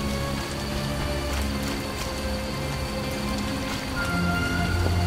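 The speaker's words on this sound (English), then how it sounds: "some rain." Steady rain in The Witcher, a dense, even hiss of falling drops pattering on surfaces, constant and fairly loud throughout with no voices.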